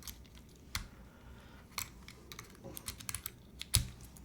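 Keys clack on a custom Unikorn mechanical keyboard in short irregular bursts of sharp, close-up keystrokes, with quiet pauses between them.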